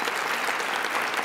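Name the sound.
applause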